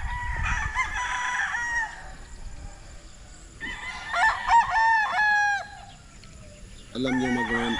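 Roosters crow repeatedly at a Filipino chicken farm where fighting cocks are kept, several loud, drawn-out calls overlapping with clucking fowl, one crow cut off near the start and another rising at the end.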